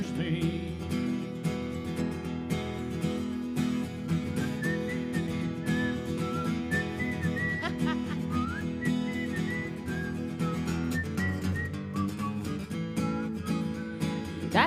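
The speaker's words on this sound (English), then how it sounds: "Whistling into a microphone is not easy." A melody whistled into a microphone during a live bar performance, bright sustained notes sliding over a loud full band backing for the whole stretch.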